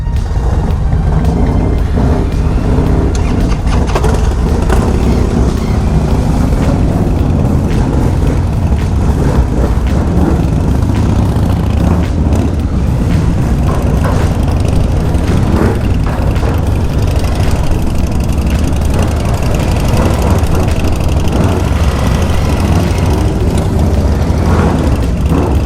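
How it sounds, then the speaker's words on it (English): Vehicle rolling off a car ferry, giving a constant loud rumbling engine drone with heavy low-end noise and no clear breaks, steady throughout. "Here we are coming off the ferry going towards Nelson."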